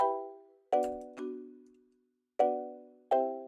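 Layered marimba chords from two software instruments, one voiced higher and one lower, combined in an Afrobeat production: four bright struck chords with a held, ringing chord between them, clean and close with no voices.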